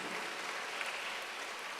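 Applause from a church congregation during a sermon, a steady even patter of clapping filling the whole moment at moderate distance.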